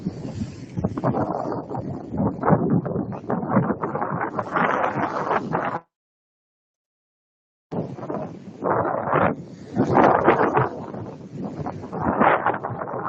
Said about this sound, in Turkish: Burası bir epey rüzgarlı.